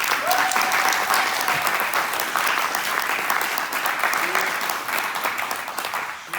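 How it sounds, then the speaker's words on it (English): A room full of people gives a steady round of applause for a staff member at a class gathering, continuous clapping throughout with no talk over it. "Can we give her a round of applause?"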